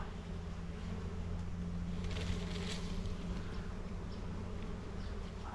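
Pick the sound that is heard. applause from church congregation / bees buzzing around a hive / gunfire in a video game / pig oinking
bees buzzing around a hive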